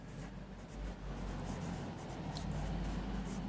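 Pencil scratching across paper as a child writes an English sentence during a class 2 lesson, a steady soft scribbling with brief high strokes, close and quiet over a low room hum.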